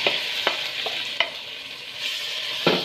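Chicken gizzard and liver tossed into hot oil with whole garam masala, a loud continuous sizzle broken by a few sharp stirring scrapes, close and without talk.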